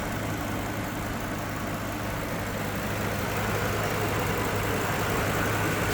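A 2006 Ford F-550 Super Duty box truck engine idles steadily up close, a constant low rumble with a faint hum and no talking.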